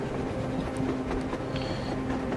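A train rolling along the surface in Metro Exodus, a steady close rumble with a sustained hum and light rhythmic clatter, no talk over it.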